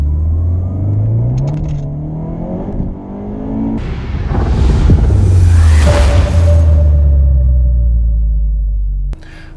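A Honda Civic Type R accelerates hard in second gear with its engine note climbing loudly up close, a rising rumble building to a peak before cutting off abruptly.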